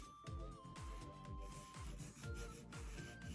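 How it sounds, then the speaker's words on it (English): A nail file rasps against the cuticle and side walls of a fingernail coated in UNT peel base, making quick, steady back-and-forth strokes close up, one after another without pause. "Just filing the cuticle walls here, the side walls"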